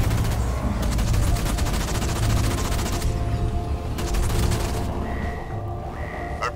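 Gunfire during an enemy vehicle attack on a base in the real-time strategy game Halo Wars 2, heard as a dense, continuous stream of rapid shots with explosions, layered over game music and steady background noise.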